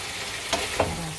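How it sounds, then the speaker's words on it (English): Shoyu shrimp and vegetables stir frying in a pan, a steady close hiss of sizzling with a couple of soft stirring scrapes, no voices. "stir fry shrimp here."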